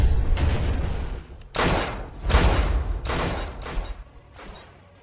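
Rapid volleys of gunfire crash out in a film battle scene, several loud bursts of overlapping shots in quick succession with booming low rumble between them, no voices over the shooting.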